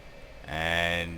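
A MilViz F-4E Phantom II jet engine spooling up in a flight simulator, a rising tonal whine that swells suddenly after a quiet moment and holds steady at a moderate level.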